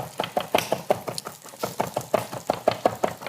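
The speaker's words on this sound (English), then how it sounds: "Keep my cilantro chopping." A knife chops fresh cilantro on a cutting board for fried rice, a quick steady run of sharp, close taps repeating about four to five times a second with no talk.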